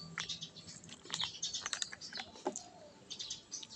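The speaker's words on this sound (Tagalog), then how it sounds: "Ay, maingay lang yung mga ibon. Pero sarap lang pakinggan ng mga ibon." Small birds chirp outdoors in a quiet spot during a simple meal, scattered short bright calls near and far, with faint clicks and rustles between them.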